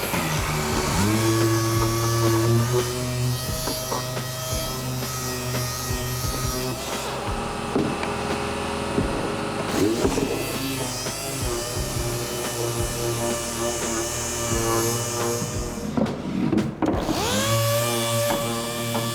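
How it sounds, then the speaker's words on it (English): A 5-inch orbital sander running with 120 grit sandpaper on a wooden panel, a loud continuous whirring hum with rubbing texture that shifts slightly in pitch as it moves across the surface. "This is just with a 5-inch orbital sander and 120 grit sandpaper."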